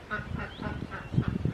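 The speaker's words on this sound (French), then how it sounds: "Je regarde les canards." Ducks quack and honk in a few short, mid-level calls, with people talking over and between them.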